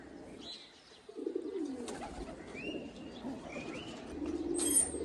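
Pigeons cooing in a loft, low soft coos rising and falling over a murmuring background with a few faint chirps and a brief sharper call near the end.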